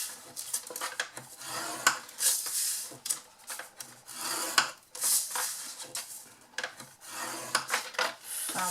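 Scoring tool drawn repeatedly along paper card at 4 centimetre marks while making a small box lid, a run of close, dry scraping and rubbing strokes with brief pauses between them.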